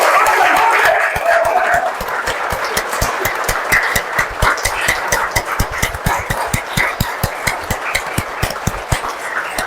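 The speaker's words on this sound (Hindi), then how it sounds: "और फिर ताली बजाएंगे सब।" Yoga participants at a Yoga Day celebration in a hospital break into clapping, settling into a steady, evenly paced rhythm of claps after a noisy opening moment.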